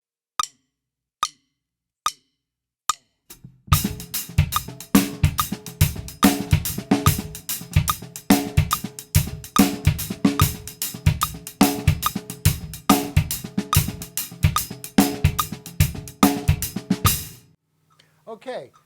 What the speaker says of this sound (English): if I get rid of the 5-note grouping thing and just play it as a sort of a halftime shuffle, it would sound like this